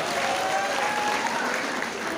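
A crowd at a gathering breaks into sustained applause, dense and steady throughout without pause.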